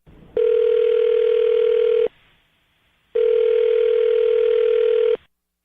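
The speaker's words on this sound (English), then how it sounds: "I'm dialing her phone number right now." A telephone call being placed to a phone number, heard as two long, steady electronic ringing tones on the line with a short silent gap between them, clear and alone with no talking.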